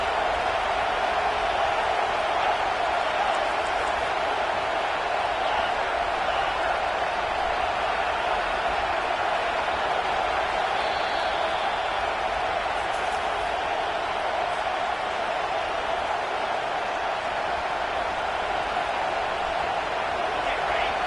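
Home crowd at an American football game roaring as the defense faces third down, a dense, steady wall of cheering and noise that holds loud and unbroken throughout.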